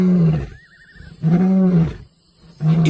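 A lion roars over a stolen kill in the wild, giving three deep, powerful bursts separated by short pauses, loud and close, with no talk.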